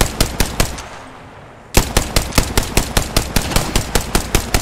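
Rapid automatic gunfire in the Apex Legends battle royale game, a burst of close shots, a brief lull, then a steady loud volley of evenly spaced rounds.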